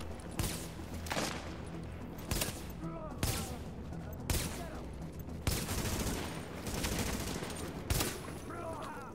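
Sniper gunfire from Tom Clancy's The Division video game rings out as loud single shots at roughly one-second intervals, with faint talk mixed in underneath.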